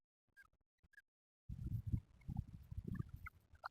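Domestic geese in a backyard pen at a countryside garden plot give a few short honks at first, then a denser burst of loud, overlapping gabbling and honking close by.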